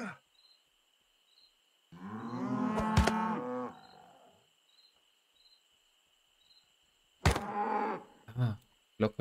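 Cartoonish cow moos from the video game Rustler, two long drawn-out lowing calls separated by several seconds, loud and close over a background of chirping crickets.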